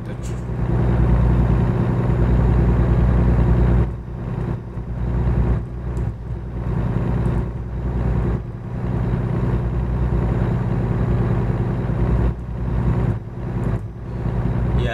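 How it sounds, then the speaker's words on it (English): A car engine drones steadily while driving on a highway between Flagstaff, Arizona and Artesia, New Mexico, a constant low rumble with road noise and brief dips, and a voice talks at times over it. "sometimes I like just listening to the sound of the engine"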